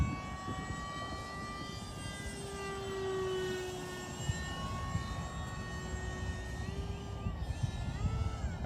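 Top RC Swift v2 glider with a 64mm electric ducted fan flying overhead, a faint, steady whining jet-like hum that shifts in pitch as it passes at a distance.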